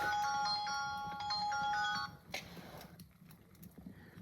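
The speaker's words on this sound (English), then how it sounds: "That's my alarm." A melodic electronic alarm ringtone plays a repeating tone pattern for about two seconds, then stops, leaving quiet room noise with faint clatter.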